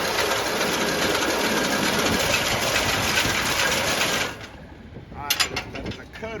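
A hay baler on a small farm runs with a dense, loud mechanical clatter and whine that drops away sharply near the end, leaving quieter rattling and a few sharp knocks.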